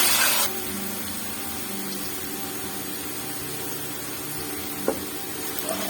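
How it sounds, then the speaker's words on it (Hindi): Sliced onions sizzle in hot oil for a dhaba-style matar keema, beginning with a loud hiss as they hit the pan, then settling into a steady, even frying sizzle with a faint stir near the end. "अब इसके अंदर मैं प्याज ऐड करके इनको फ्राई करूंगी।"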